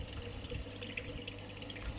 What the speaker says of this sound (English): And then we're going to turn on the cooling water.